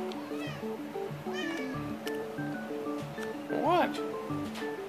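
A cat meows once, a short rising-falling cry heard close, amid background music and clinking sounds while a person speaks nearby.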